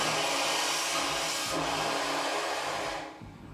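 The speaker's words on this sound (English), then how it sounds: "So I'm going to go ahead and fire it up. You'll hear the compressed air bleed off." Compressed air bleeds off from a wet blasting machine as it starts, a loud, steady hiss that holds for about three seconds before quickly tapering off.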